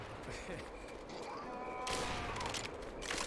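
Gunfire in the zombie shooter Left 4 Dead 2, quiet rapid bursts mixed with game noise, building to a denser, harsher volley in the second half, with brief voices from the game.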